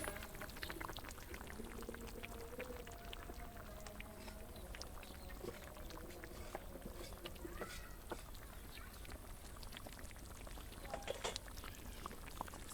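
Hilsa fish simmers in a village cooking pot with leaves, giving a faint, steady bubbling hiss with soft crackles and pops throughout, low in level and continuous.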